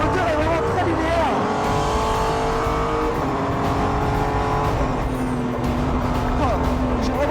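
A Renault Sport Trophy race car engine at the Nürburgring drones loudly and continuously, revving up and down with gear changes, heard from on board with someone talking over it throughout.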